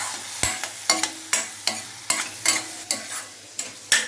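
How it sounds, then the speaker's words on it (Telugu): Onion pieces with turmeric stirred in hot oil in a pan, a steady run of sharp scraping clacks about every half second over a soft background sizzle, close and fairly loud with no talking. "ఇప్పుడు ఈ ఉల్లిపాయ ముక్కల్లో చిట్టుకడి పసుపు పసుపు వేసి ఇలా కలుపుకుందాం"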